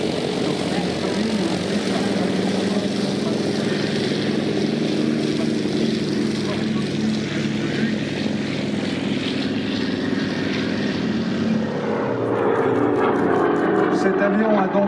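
WWII propeller fighter aircraft at the La Ferté-Alais air show, a loud sustained engine drone with propeller roar, shifting in pitch as it passes, with a commentator talking over it.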